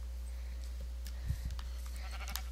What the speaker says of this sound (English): Hi, sheep.